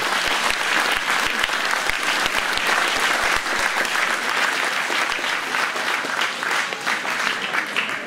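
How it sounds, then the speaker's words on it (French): A large audience at a Téléthon charity evening in Saint-André-les-Alpes applauds continuously, dense and loud clapping filling the hall for several seconds. "On peut l'applaudir."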